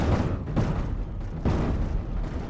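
A warhead detonation in the Space Engineers game, a dense, sustained rumbling roar with a few renewed bursts, loud and continuous with no talk over it.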